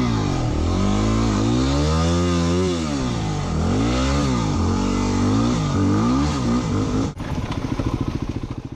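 A Yamaha WR250R dirt bike on a wooded trail, its engine rising and falling through repeated revs as the rider hops a log, loud and close, ending in a choppy idle-like putter.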